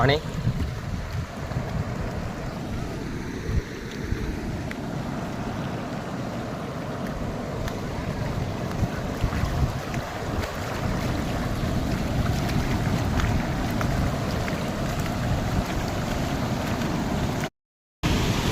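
Floodwater from a river overflowing into a village after heavy rain rushes steadily and loudly, a continuous roar with wind buffeting the microphone and faint voices underneath.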